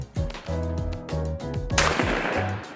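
A Stevens by Savage 555 12-gauge over-under shotgun fires a single loud blast at a clay target, set against a backdrop of steady rhythmic tones.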